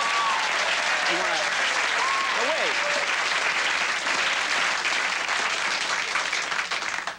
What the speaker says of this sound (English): Why are there a lot of guys applauding that?